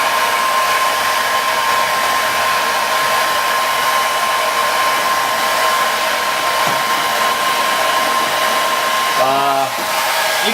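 Hair dryer blowing hot air to soften the sealant goo on a 2004 BMW X3 E83 door panel, a loud continuous close-up roar with a steady whine, briefly changing pitch near the end.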